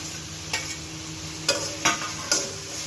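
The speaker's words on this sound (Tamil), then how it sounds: "தக்காளி கொஞ்சம் நல்லா வதங்கிக்கட்டும்" Ginger, garlic and tomato sauté in a pan with a continuous soft sizzle, punctuated by four sharp scrapes of a spoon stirring against the pan.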